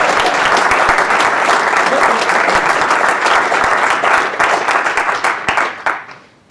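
Lecture hall audience at a dean's lecture breaks into loud, dense applause, a steady wash of many hands clapping close by that holds for about five seconds before thinning out and fading.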